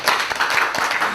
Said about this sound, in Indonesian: Tepuk tangan buat Mas Eng.